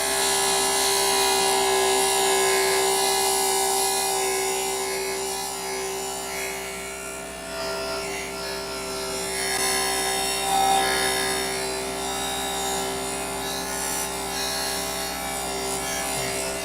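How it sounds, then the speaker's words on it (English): A JoolTool scratch eraser polishes nicks out of a spoon that was damaged in a garbage disposal, giving a steady whirring grind with a constant motor hum that runs close-up for the whole time, with small changes in loudness. "I figured I can get those little smaller nicks out with the scratch eraser, and that's what I'm about to do right now."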